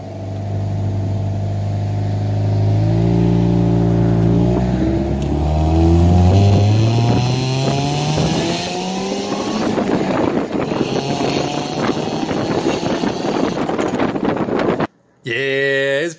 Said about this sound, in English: I'm just gonna let you enjoy the sounds of my supercharged Miata